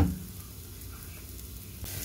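Onions frying in a pan before minced meat goes in, a low continuous sizzle, close and quiet, with a brief louder stir at the start and again near the end, no speech.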